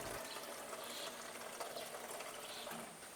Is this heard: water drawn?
yes